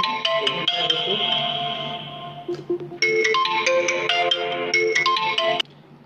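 A phone ringtone plays a repeating bright electronic melody in two loud bursts with a short gap between them, alone with no talk over it, during a Hindi-language agriculture coaching class.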